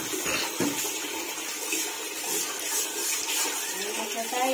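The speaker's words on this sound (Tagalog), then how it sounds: "May tubig na tayo." Tap water runs in a steady, loud hiss and splash close by for the whole stretch, with faint voices underneath.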